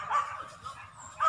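A small dog barking a couple of times during a wild boar hunt in the hills, faint and somewhat distant, with short yips separated by a pause.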